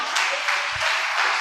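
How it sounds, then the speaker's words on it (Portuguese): A church congregation claps in sustained applause, a dense, even patter of many hands filling the space without pause. "Você pode dizer obrigado, Jesus, e aplaudir o nome dEle?"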